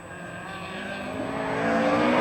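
A rally car on a gravel stage at the Otago Classic Rally, its engine note rising steadily as it drives through a flick and comes closer, loud and alone with no voices.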